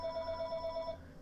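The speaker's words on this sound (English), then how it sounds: "Excuse me, that's the phone." A telephone rings in a steady, rapid warbling pattern for about a second and then stops, clear and fairly close, with no talk over it.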